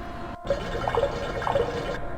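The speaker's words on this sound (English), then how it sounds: "The container heats up slowly and the sound of bubbling echoes from inside." Liquid bubbles and gurgles inside a heated container in the Star Trek: Judgment Rites game, a few pops and burbling tones over a steady hum after a brief silence.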